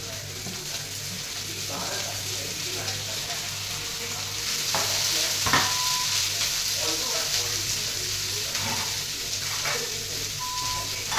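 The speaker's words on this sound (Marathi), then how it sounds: "त्याच तव्यात कधी आपण भेंडीची भाजी करून घेऊया." Okra frying on a flat iron tawa griddle, a steady close sizzle broken by scraping stirs and sharp clinks of a spatula, with brief faint beeps in the background.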